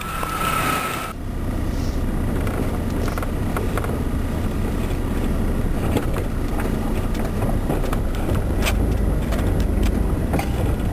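Steady engine drone and road rumble from a Chevrolet S10 pickup on a test drive after a CPI spider injector replacement, a continuous low rumble with scattered rattles and clicks that holds a constant level.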